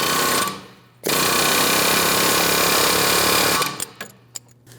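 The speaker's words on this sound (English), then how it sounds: "I'm going to use an air hammer so we can start tapping this out of position." Pneumatic air hammer rattling against a 2015-2025 Ford Transit 250 front ball joint, loud and continuous in two bursts: a short one, then a longer sustained run of about three seconds before tapering off.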